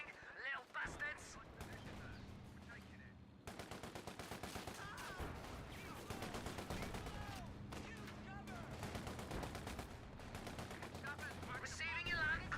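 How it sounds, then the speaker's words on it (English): Enemy infantry fire in a war video game: dense rattling gunfire and machine-gun bursts run almost continuously, with voices and radio-style game chatter underneath. "Enemy infantry firing, little bastards."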